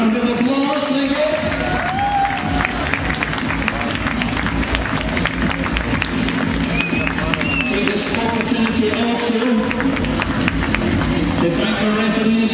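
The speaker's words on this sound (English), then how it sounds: "A round of applause" Arena crowd applauding after an ice hockey game between Solway Sharks and Sheffield Scimitars, loud sustained clapping with some cheering and crowd noise, steady throughout without a break.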